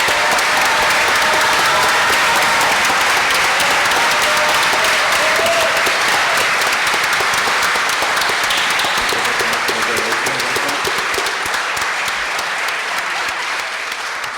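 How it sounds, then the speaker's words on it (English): Audience applause fills a hall after a Democratic election debate for a state assembly district, loud sustained clapping from a large crowd that holds steady throughout before slowly thinning near the end. "let loose even more applause for all our great candidates and moderators"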